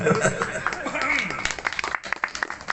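Audience at a religious sermon during a haul commemoration breaks into scattered clapping and brief laughter, a loose crowd of hands close by, with talk continuing over it.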